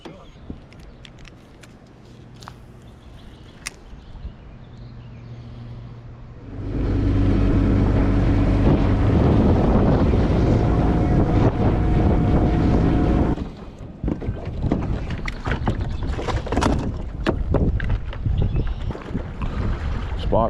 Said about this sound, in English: It is daggum windy. Very windy.